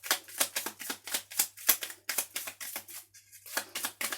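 Tarot cards are shuffled in a quick run of crisp, papery riffles and slaps, close and fairly quiet, with a brief pause near the end before the shuffling resumes.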